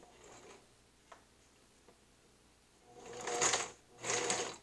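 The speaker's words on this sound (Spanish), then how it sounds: "unimos aquí y vamos cosiendo desde acá abajo. Vamos cosiendo hasta llegar aquí." A sewing machine stitching fabric for a girl's dress: a few faint mechanical ticks, then two short, close whirring bursts of rapid stitching near the end, with no talk.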